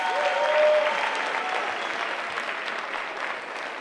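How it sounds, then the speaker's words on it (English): Round of applause from the audience at an International Women's Day lecture and panel event, full steady clapping that swells early then carries on evenly. "Can we give them a round of applause,"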